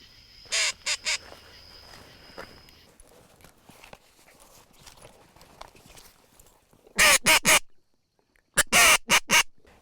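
Teal and other ducks call in sharp, loud bursts of quacking near decoys on a public Kansas hunting marsh, two clusters of rapid calls separated by quieter stretches of water and faint background noise.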